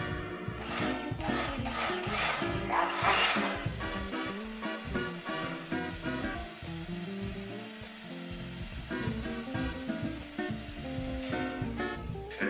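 Low-calorie homemade sweet cream, set almost like jelly, is mixed with a continuous rough churning and whirring sound, close and steady throughout with slight swells, and no one speaking.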